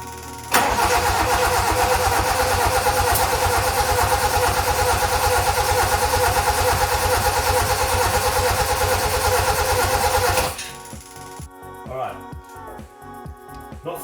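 A Toyota Corolla KE55 engine cranks steadily with the choke on for about ten seconds without firing, a loud rhythmic starter churn that cuts off abruptly and leaves quieter clicks and shuffling.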